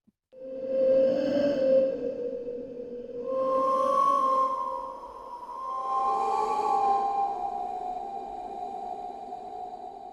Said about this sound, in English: Wind whistle number 2.